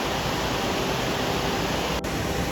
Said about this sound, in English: Look at the water coming up this waterfall just here.